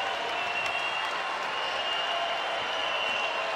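A home crowd at a Vanderbilt basketball game against Liberty fills the arena with a continuous, even wash of applause and cheering, dense and sustained, heard from within the stands.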